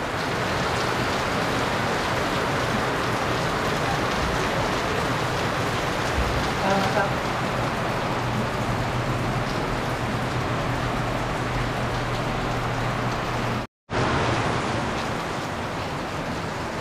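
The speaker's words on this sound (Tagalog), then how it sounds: "Sobrang lakas po ng ulan." Heavy rain pours down steadily in a Filipino home kitchen, a dense, loud, unbroken hiss of water with a brief dropout partway through, while faint voices are heard.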